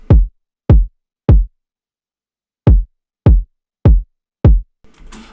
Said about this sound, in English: The kick, it sounds like this.